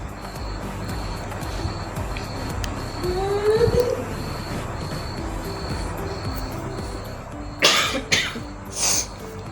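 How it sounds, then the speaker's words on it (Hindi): Two or three harsh coughs come near the end, close and loud, over a steady background of engine or road rumble. "मुझे खांसी ने बड़ा तंग किया हुआ है।"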